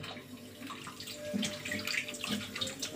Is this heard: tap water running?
yes